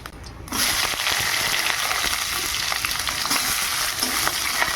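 Onions drop into hot oil in a kadai and fry with a sudden loud sizzle that holds steady and close, with faint stirring scrapes.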